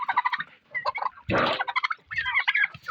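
A dense chorus of gobbling, clucking poultry crowding close together to feed, rapid overlapping calls with a brief burst of flapping or rustling midway.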